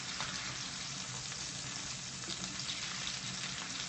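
Food fries in a pan in a continuous loud sizzle and crackle, close and steady for a few seconds with no talk over it.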